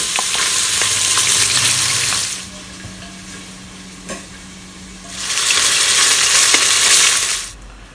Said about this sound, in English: While we are pan searing the pork ribs